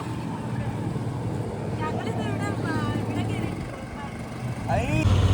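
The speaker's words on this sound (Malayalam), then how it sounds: "നമ്മളിനി സ്പീഡ് ബോട്ട് പോയ പോക്കാണിത്." Speedboat ride on the Alleppey backwaters: a continuous engine drone and rushing water with wind buffeting the microphone, steady and close, with voices briefly audible over the motor.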